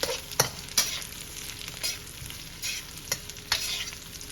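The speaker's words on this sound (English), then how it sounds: "I've been frying my jalapenos for about 2 minutes" Jalapenos frying in a skillet, a continuous sizzle with a few sharper stirring scrapes and pops at irregular intervals, close up and with no talking.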